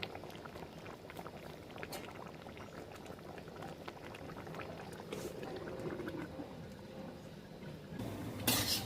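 Chicken with spices braising in a pan as the meat releases its water gives a quiet, continuous bubbling sizzle, faint and close, with a brief louder clatter near the end.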